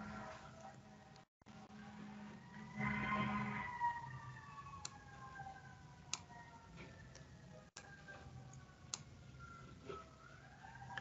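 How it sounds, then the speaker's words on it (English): Fire engine sirens pass outside near a firehouse, a steady rising and falling wail drifting across at moderate distance, with a few sharp clicks scattered through the background and no speech over it. "I'm trying to ignore the fire engines."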